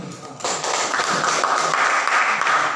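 Classroom applause from students of an Indonesian school lesson, a sustained patter of many hands clapping that starts abruptly and holds steady at moderate loudness, with no voices over it.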